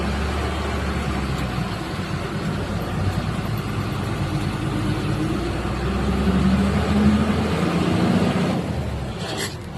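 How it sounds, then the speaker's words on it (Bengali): Cars and trucks pass along a road beside a pump in Dhupguri during the daytime. A steady, fairly loud engine rumble runs throughout and swells around the middle as a heavier vehicle goes by, with no one talking. "বুঝতে পারলে গাড়িগুলো যাচ্ছে।"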